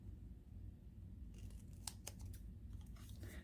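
Scissors snip through paper banners, a few sharp close cuts starting partway in, then lighter rustling and crinkling of the paper over a low background rumble.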